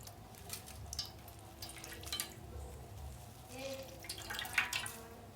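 Water drips and trickles as slices of bread dipped in water are squeezed out by hand, soft splashes and dribbles coming in short bursts, close and faint over a low room hum.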